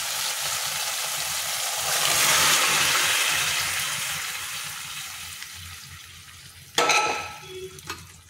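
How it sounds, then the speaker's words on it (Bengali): Peas and potatoes tipped into hot spiced oil for ghugni, giving a steady broad frying sizzle that swells, eases, then returns with a sharp burst of crackling near the end, with no voices. "এইবার আমি মটর আর আলুটা দিয়ে দেব।"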